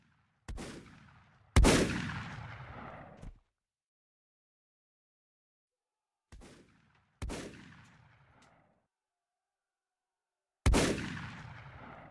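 Five sharp, booming gunshots from the video game Zulu Response, fired singly in uneven pairs with long reverberant tails and dead silence between them, close and loud.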